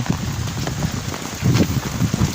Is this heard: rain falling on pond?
yes